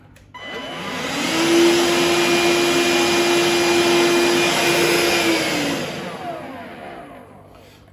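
A Bosch BHN24L handheld vacuum cleaner running on its second power setting, switching on with a rising whine, holding a loud steady motor drone with a fixed tonal hum for about five seconds, then winding down.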